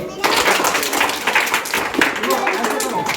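A boy claps his hands during a classroom learning game, a quick run of sharp, close claps that blends with other children's voices in the room.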